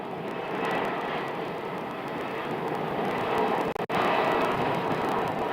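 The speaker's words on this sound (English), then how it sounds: "This is a Frontier flight from Seattle." A Frontier airliner taxis toward its gate at Phoenix Sky Harbor, its engines producing a steady broadband rumble and hiss at moderate distance, with a brief dropout near the end and no voices.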